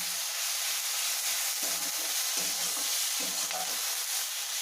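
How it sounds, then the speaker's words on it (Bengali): Bay leaf, chili and spices frying in oil in a pan for a rohu fish curry with tomato, stirred with a utensil, giving a steady close sizzle broken by repeated scraping stirs. "তার সঙ্গে তেজপাতা দিয়ে তেল দিয়ে নাড়তে হবে"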